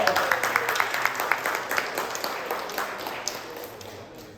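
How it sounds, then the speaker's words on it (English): Audience applause at a biohacking talk, a burst of clapping that starts loud and gradually thins and fades over a few seconds, with faint voices. "An applause to Enzo."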